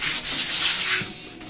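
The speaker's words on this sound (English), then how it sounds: "you can go over the whole thing and just really smooth that wood up real good" Sandpaper rubs back and forth over the wooden frame of an RC plane being recovered, a close, continuous hissing scrape in quick even strokes with no talk.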